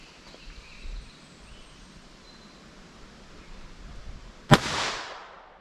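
A single sharp gunshot from a 4.1 inch pistol firing CCI Stinger 32 grain .22 LR ammunition, loud and abrupt after quiet outdoor ambience, followed by a short decaying echo.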